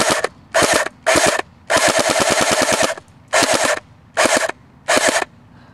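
A CYMA M14 airsoft rifle, 2013 enhanced version, fires on full auto in loud close bursts of rapid clattering shots, short and long strings separated by brief pauses.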